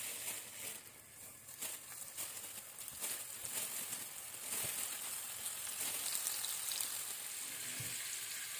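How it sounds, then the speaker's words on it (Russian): Beef frying in heated oil in a pan on a village stove, a steady dense sizzle and crackle that builds slightly and holds loud throughout. "Отправляем говядину обжариваться."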